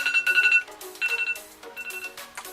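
A phone timer alarm ringing in repeated bursts of bright electronic tones, clear and close, with brief pauses between the ringing phrases and no talk.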